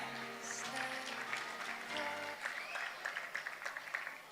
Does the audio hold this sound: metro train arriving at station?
no